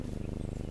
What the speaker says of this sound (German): Schnurr.